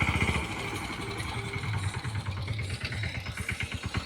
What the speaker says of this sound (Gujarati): તમે જોઈ શકો મારા પપ્પા ચલાવી રહ્યા છે ટ્રેક્ટરને